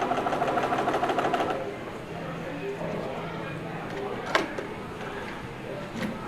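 A sewing machine stitches along a fabric selvage guided by a cardstock edge, its rapid needle chatter loud for the first second and a half before it stops, followed by quiet room sound and a couple of faint clicks.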